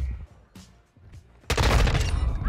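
Grenade launcher fired in the video game Modern Warfare 2: quiet thuds and faint game sounds, then a sudden loud, broad explosive blast that roars on steadily to the end.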